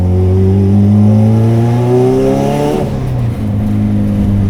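A 600 hp LS V8-swapped Honda Civic with turbo boost revs loudly and close by. Rising harmonic engine tones climb through the first few seconds, then drop back to a steady rumble.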